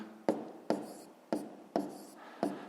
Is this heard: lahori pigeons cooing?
no